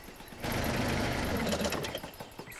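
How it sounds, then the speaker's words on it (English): A small vehicle engine in a cartoon starts up and runs loud and steady with a fast mechanical rattle, then eases off slightly. "Sorry, Ted, I couldn't hear you with the engine on"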